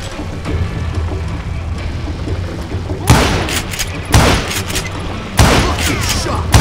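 Gunshots from the Western shooter video game Call of Juarez: Gunslinger, three loud broadband blasts spaced a second or two apart over a steady low rumble of game ambience.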